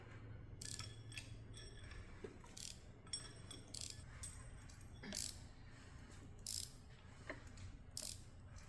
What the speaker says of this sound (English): now I'm gonna turn the motor over until my top dead center line-up tool lines up